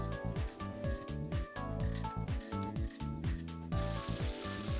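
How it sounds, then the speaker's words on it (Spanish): Chopped onion with red and green peppers sizzles steadily in a pan, a soft frying hiss under rhythmic background music that swells briefly near the end. "Luego sofreímos las hortalizas."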